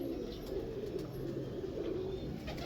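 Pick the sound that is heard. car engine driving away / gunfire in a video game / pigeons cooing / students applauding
pigeons cooing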